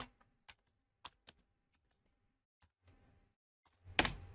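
Isolated keystrokes on a computer keyboard, a few sparse, quiet clicks spaced apart, ending in a louder burst of clatter.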